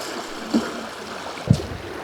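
Water rushes steadily through a storm drain canal, a constant hissing wash of flow heard up close outdoors, with a couple of soft low thumps.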